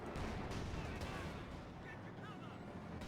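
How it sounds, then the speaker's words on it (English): Base howitzer artillery booms through a Company of Heroes 2 battle, heavy, rumbling shots and crackling impacts layered into dense combat noise, with a voice talking over the barrage. "I think that's actually from the base howitzers"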